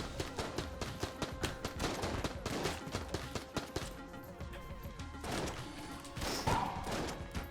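Shotgun blasts and gunfire ring out in the video game Enter the Gungeon, with rapid overlapping bursts and crashes layered over a steady game soundtrack, all at moderate level.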